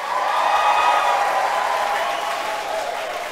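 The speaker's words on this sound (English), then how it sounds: "Give him a big round of applause." A crowd applauds a birthday shout-out with a smooth, continuous roar of many hands clapping together, fairly loud and even, easing off slightly toward the end.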